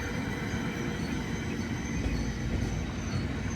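A regional train passes close by in Oldenburg, Germany, making a steady, loud rumbling roar of wheels on rails that fills the whole stretch, with no talk.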